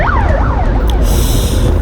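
An ambulance siren at a 2020 Buan Saemangeum Mediofondo cycling race wails in rising and falling sweeps, loud and fairly close, over a steady rumble of road and vehicle noise.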